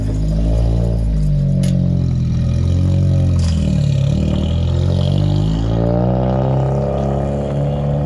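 A Honda car with a rebuilt D16Z6 engine rolls into a driveway, its engine note loud and close with a steady rumbling drone that rises and falls slightly, no voices over it.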